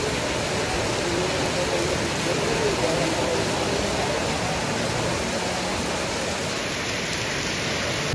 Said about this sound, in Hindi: उधर देख कितनी तेज पानी गिर रहा है